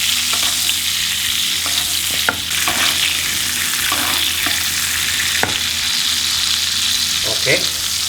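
A steak sizzles and fries loudly in a hot pan while being basted, a constant dense crackle with occasional scraping stirs of the spoon and brief clinks, with no talking.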